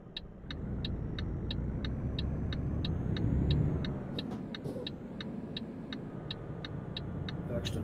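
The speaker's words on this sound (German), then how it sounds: "Jude, gib mal ein bisschen Gas" A truck engine in Euro Truck Simulator 2 hums and builds steadily as the throttle is pressed, a low continuous drone with a regular ticking, likely the turn signal, running through it.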